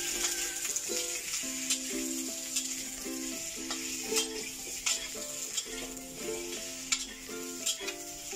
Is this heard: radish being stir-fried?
yes